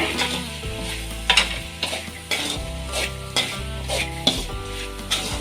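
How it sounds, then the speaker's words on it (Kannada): Banana stem palya with grated coconut and coriander stir-fried in a pan: a steady sizzle with repeated scraping strokes of a spatula at a regular pace, close and clear with no talking. "ಇವೆಲ್ಲ ಹಾಕಿ ಚೆನ್ನಾಗಿ ಮಿಕ್ಸ್ ಮಾಡ್ಕೊಳ್ಬೇಕು"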